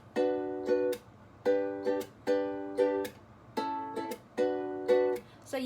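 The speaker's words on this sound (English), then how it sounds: "You're just gonna pluck all strings, strum up, and then slap." A ukulele repeats a pluck-all-strings, upward strum and percussive slap pattern for a song, about eight evenly spaced cycles ringing briefly then muted by sharp slaps, close and moderately soft, with no talking.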